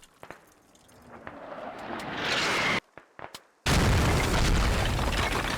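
Mortar rounds land in a barrage in the video game Squad, a swelling roar of incoming fire followed by sharp cracks and a massive, sustained explosive blast close by, loud and continuous.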